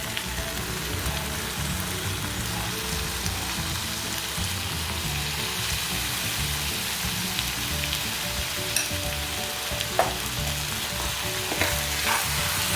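Squid pieces fry in an oiled pan for a spicy masala and are stirred, giving a continuous close sizzle with scraping and occasional utensil knocks, no talking.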